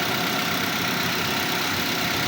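A car engine idles steadily on a service lift during a periodic maintenance check, a constant close rumble with even low throb and no voices.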